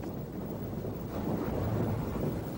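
Heavy rain and strong wind in a thunderstorm make a steady, dense roar with a low rumbling undertone, unbroken and without voices.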